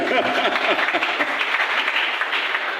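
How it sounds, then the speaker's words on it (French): A church congregation applauding together, a dense, steady wash of clapping hands filling the space for the whole stretch, loud and continuous with a few voices mixed in. "On acclame le Seigneur."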